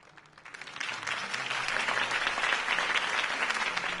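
Crowd applause in a Batman Telltale game scene right after a political campaign speech, rising from quiet to a dense, sustained ovation that holds steady for several seconds.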